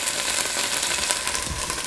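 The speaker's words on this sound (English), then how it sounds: "I'm frying it up in a little bit of the Luxa paste before I put all the other Luxa stuff in" Firm tofu sizzles and crackles steadily in a hot pan with a little laksa paste, a close, even frying hiss with no talking.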